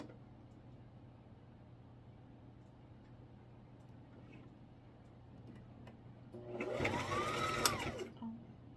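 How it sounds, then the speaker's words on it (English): Sewing machine stitching a fabric divider piece onto a small organizer, a steady low mechanical hum through most of the run that swells into a louder, busier whirr of fast stitching near the end. "Line it up and stitch it on."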